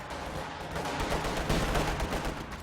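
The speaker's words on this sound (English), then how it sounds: "Guys getting some nice shots off." Rifle fire rattles through a Company of Heroes 2 skirmish in a dense, continuous stream of overlapping shots and bursts, loud and busy with no voices over it.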